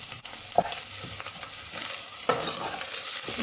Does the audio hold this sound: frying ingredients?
yes